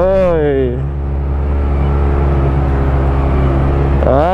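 A UTV drifts off-road on a muddy course in China, its engine droning loud and steady with a low rumble, rising revs at the start and end, and voices shouting over it.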